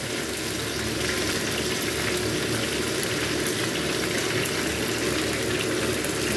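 Potatoes and eggplant fry in a pan with a steady, dense sizzle and bubbling hiss, continuous and close throughout, with no voices.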